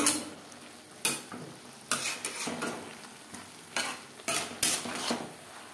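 A spoon scrapes and stirs boiled potatoes into cabbage curry in a pan, making repeated rough scraping strokes at irregular intervals over a soft sizzle, close up with no talking.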